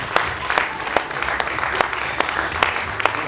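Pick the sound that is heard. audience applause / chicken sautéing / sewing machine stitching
audience applause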